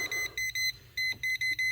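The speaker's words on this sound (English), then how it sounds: "it tells you if there's voltage running through it when it turns red and beeps like that" A non-contact voltage tester held to live wires at a breaker box gives a rapid series of high electronic beeps in quick bursts, about six short tones, close and fairly faint with no talking.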